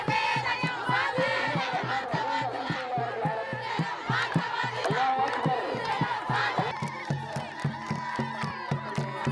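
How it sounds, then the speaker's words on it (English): Crowds celebrating in the streets of Somaliland, a dense roar of shouting and cheering voices with rhythmic chanting and cries, loud and continuous throughout. "This announcement met with celebrations in Somaliland. Crowds gathered in the streets and flags were raised."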